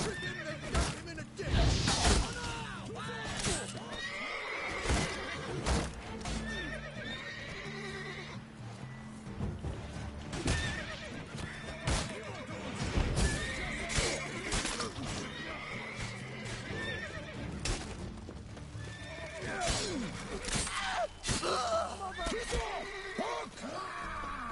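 Horses in the video game The Witcher 3: Wild Hunt whinny and neigh several times amid clip-clopping hooves and combat noise, with loud bursts recurring over about twenty-five seconds and a player's voice talking at points.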